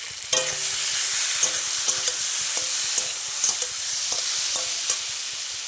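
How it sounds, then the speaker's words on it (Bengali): Potatoes frying and being stirred in a spiced masala for a red rohu fish curry, with a steady sizzle and repeated scraping strokes of a spoon in the pan, close and alone. "মশলাটা কষানো হয়ে গেছে, এবার আলুগুলো দিয়ে দেবো"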